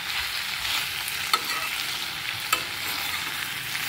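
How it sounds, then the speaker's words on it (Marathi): Bitter gourd stir-fried with spices in a pan sizzles steadily and loudly, with two sharp scrapes of a spatula stirring the vegetables; no talking. "एकसारखं असं खालीवर चांगलं परतून घ्यायचं आहे कारलं आपल्याला हे, जेणेकरून सगळा मसाला हा कारल्याला लागायला पाहिजे आपला."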